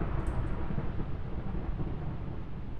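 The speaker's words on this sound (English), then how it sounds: "There's an epic thunderstorm." A thunderstorm in the Minecraft video game, heard as a steady, loud low rumble of thunder and rain that fills the whole clip with no talking.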